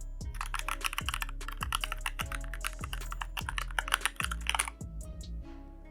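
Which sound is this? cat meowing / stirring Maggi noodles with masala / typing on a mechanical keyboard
typing on a mechanical keyboard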